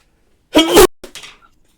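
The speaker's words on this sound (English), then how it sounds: "I sneezed" A person's sneeze bursts out once, close and fairly loud, trailed by a short breathy exhale, with no talk over it.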